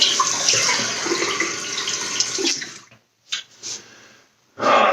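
Tap water runs and splashes as shaving lather is rinsed off a face, steady for a few seconds, then cut into short bursts of splashing and snorting breaths near the sink.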